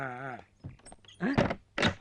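A door in a house is shut, heard as two short, solid knocks in close succession right after a brief vocal sound.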